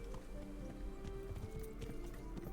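Horse hooves clip-clop in a steady trotting rhythm in Kingdom Come: Deliverance, close and prominent over ambient outdoor game sound.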